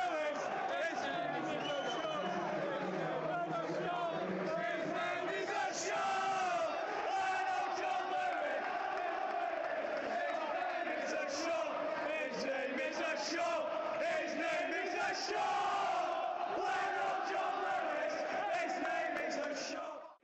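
English football fans in a stadium crowd chant together in a loud, rhythmic mass of voices that holds at a steady level for about twenty seconds.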